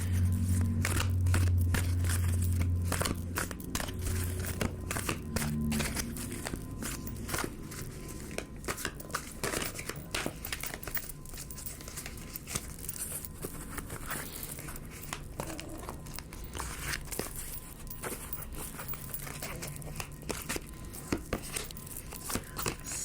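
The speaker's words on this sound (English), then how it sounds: "Let me shuffle through the cards and let's see what comes out." Oracle cards are shuffled by hand up close, giving a continuous run of quick papery riffles and soft slaps, with a low hum underneath at the start.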